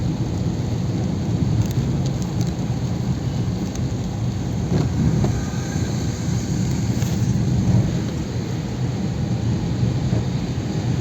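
Heavy rain pours steadily over Wazirabad's Signature Bridge on the Yamuna in Delhi, a dense, loud, continuous wash of falling water, with thunder-like rumble mixed in.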